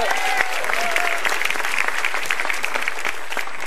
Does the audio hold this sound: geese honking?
no